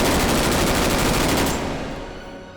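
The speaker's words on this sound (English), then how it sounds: "it's slow full auto and fast full auto. So let's turn on to fast" Fast full-auto gunfire from a weapon in the VR shooter H3VR, a loud dense continuous burst that fades toward the end.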